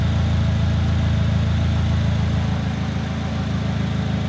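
A Polaris Slingshot engine idles steadily just after starting, a close, constant low rumble with no talking over it.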